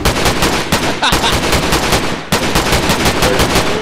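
Rapid automatic gunfire in the shooter game Zmod: loud, close bursts of evenly spaced shots that run almost continuously, broken only by two very brief pauses.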